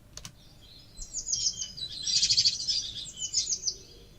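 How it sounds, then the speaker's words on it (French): High, twittering songs from small birds trill and chirp in quick bursts over a faint background hum, after a couple of soft clicks at the start. "c'est des petits oiseaux qui chantent"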